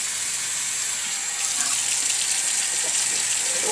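A tap runs steadily while something is washed out, a loud, close, continuous gush of water with a slight shift in tone partway through and no voices.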